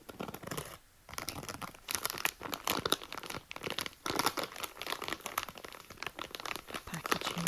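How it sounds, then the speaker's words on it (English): Large plastic pack of sour streamer candy crinkled up close, a busy run of sharp crackles and rustles with brief pauses between handlings. "The packaging is very smooth. And just light and crinkly"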